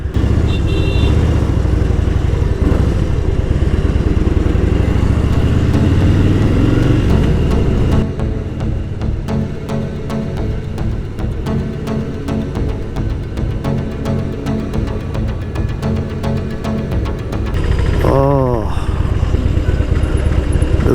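A Harley-Davidson Fat Boy motorcycle rumbles loudly through Bengaluru traffic, its engine droning steadily with a rise in revs toward the end and passing vehicles around it.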